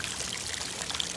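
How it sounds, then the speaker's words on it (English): Water draining out the bottom of a Zodiac cyclonic leaf catcher, a steady close pouring trickle that holds even and unbroken for about a second with no voices. "you're going to want to go ahead and drain it. It drains from the bottom."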